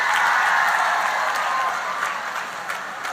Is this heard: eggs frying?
no